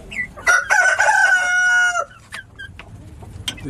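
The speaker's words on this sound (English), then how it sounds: "This is our sick bird." A sick hen with Mycoplasma gallisepticum gives a loud, drawn-out harmonic call up close, followed by a few shorter clucks.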